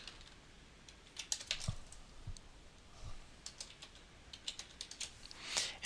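Steady typing of a business name on a computer keyboard, a brisk run of close, crisp key clicks over a faint background hiss, with no talking.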